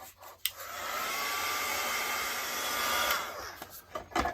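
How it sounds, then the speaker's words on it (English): A heat gun blows hot air in one continuous roaring whoosh lasting a few seconds while drying a grunge-style artist trading card, ending with a few small handling knocks. "And grab my heat gun."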